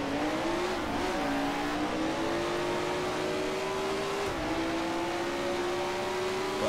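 A vintage Grand Prix race car in the Grand Prix Legends sim howls at high, steady revs, its pitch climbing gently through the gears, while another car closes in from the inside, all loud and close throughout.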